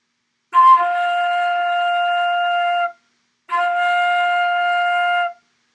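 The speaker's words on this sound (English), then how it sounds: "And now this is how this note sounds." Flute sounds a single sustained note, fingered with three plus one and the pinky, played loud and clear twice with a short breath gap between the two long tones.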